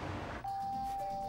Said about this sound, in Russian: Тут в дверь звонят, перезвони.